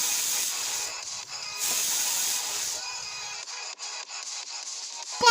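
A pressure cooker holding chicken soup with sweet corn lets off a steady, close hiss of escaping steam that wavers and briefly dips a few times, alone without any talk.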